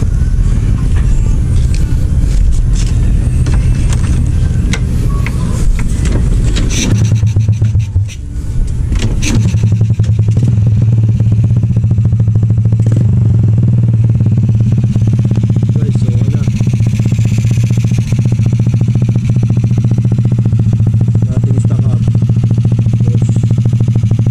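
A Honda Wave 100 motorcycle engine runs after a top overhaul, a loud, close, steady idle rumble that dips briefly before settling back into a continuous even putter.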